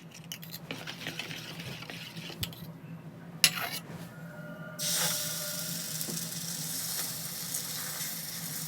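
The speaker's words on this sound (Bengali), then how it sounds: "এখানে তেল দিয়ে দিয়েছি। তো এবার রুটিটা ছেড়ে দেবো।" Flatbread batter of flour, sugar and salt dropped into hot oil in a pan, starting with faint crackle and clatter before a sudden loud, steady sizzle takes over and continues.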